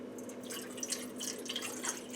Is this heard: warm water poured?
yes